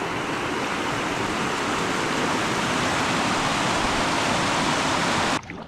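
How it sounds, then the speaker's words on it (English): Water rushes steadily over rocks in a stream, a dense, continuous splashing hiss close by with no voices. "A little bit of water going through there."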